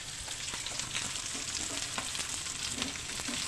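Kilimeen fish fry in hot oil with a continuous, dense sizzle, joined by a few low knocks and scrapes as the pieces are turned in the pan.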